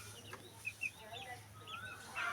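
Vaccinated laying hens roam free on a rooftop, giving soft, scattered clucks that stay faint against a low steady background hum.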